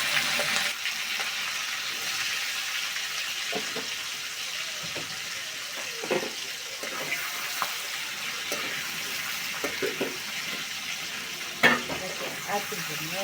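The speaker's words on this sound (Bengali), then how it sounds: "চিংড়িতে ভালো করে ভাজবো" Prawns frying in oil in a pan, with a steady soft sizzle throughout and occasional clinks and scrapes of stirring, one sharper knock near the end; no talking.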